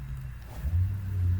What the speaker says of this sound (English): I hope you didn't just hear that car